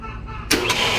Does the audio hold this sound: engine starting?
yes